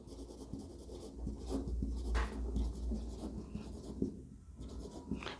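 A teacher writes on a classroom board during a biology lesson, with steady faint scratching and tapping strokes close by and no talk over them.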